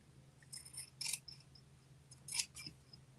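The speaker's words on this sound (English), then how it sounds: "Trim the seam allowance." Scissors snipping through fabric seam allowance while sewing a top and pants into shorts, a few quiet, crisp cuts in an irregular rhythm, close and soft with no talk.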